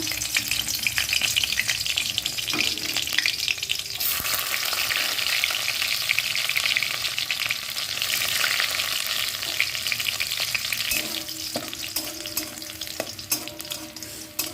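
Chopped garlic fries in hot oil for an egg tadka, giving a steady, loud sizzle with occasional stirring scrapes that runs throughout without any talk.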